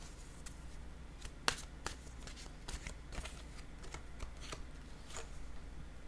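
A deck of tarot-style cards is shuffled by hand, then a single card is drawn: soft riffling and irregular papery taps and flicks, close and quiet, with no voices.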